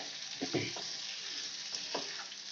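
Amla pickle being stirred together with crushed rock salt and roasted spice powder, giving a few soft, close scraping strokes over a steady background hiss.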